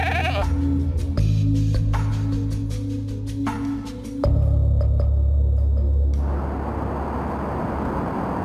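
Goats bleating loudly and close by in North Korea, several long wavering calls overlapping one after another, with rough noisy background in the final seconds.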